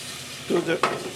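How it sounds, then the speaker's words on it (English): Shallots sautéing in a hot pan give a brief sizzle with a quick stirring scrape, close and moderately loud. "Saute a few minutes"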